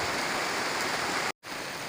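Steady rain falling outdoors, a dense continuous hiss that fills the scene, briefly cutting out for a moment before resuming.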